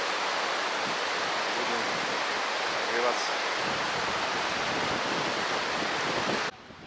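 The Muruju mountain river rushes in a broad, steady roar of flowing water heard close by. A voice speaks briefly over it before the sound drops away near the end.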